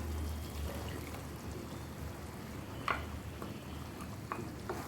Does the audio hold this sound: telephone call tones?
no